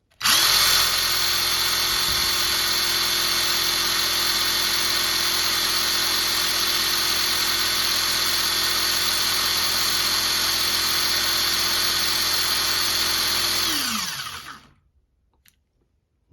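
A cordless power drill running on a homemade battery pack whines at a steady, loud, constant pitch for about fourteen seconds, then winds down and cuts out as the overheated pack shuts it off, leaving silence.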